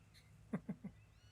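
Kittens in the video game Sam & Max Save the World give three short, quiet mews in quick succession, alone over a low background hum.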